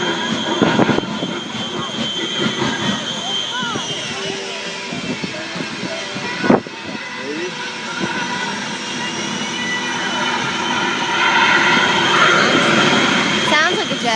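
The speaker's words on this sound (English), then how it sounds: "This Shockwave jet truck. Here it comes. Spooling up." Shockwave jet truck spooling up its jet engines at an air show in Northern Michigan, a loud sustained whine with rising tones that builds steadily, a sharp crack near the middle, and someone commentating over it.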